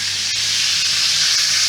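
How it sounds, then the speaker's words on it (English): Chicken sizzles and crackles steadily in a hot frying pan, a constant bright hiss with faint pops, no voices. "So I'm just gonna fry the chicken."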